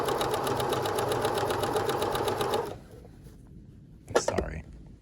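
A sewing machine runs steadily and fast while stitching a skirt waistband, a straight seam joined to a curve, for nearly three seconds before stopping; brief handling noises follow.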